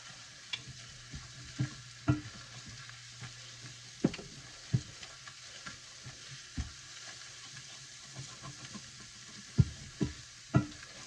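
Garlic sautéing in a pan for a spinach garlic ziti, giving a soft steady sizzle broken by sharp scraping stirs and utensil taps at irregular intervals.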